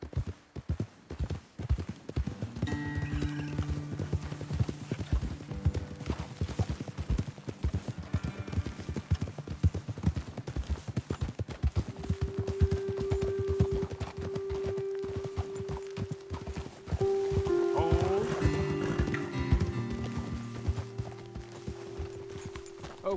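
Horse hooves clip-clopping on a trail in the video game Red Dead Redemption 2, a steady walking rhythm of hoofbeats close by, with occasional tonal game sounds layered in the background.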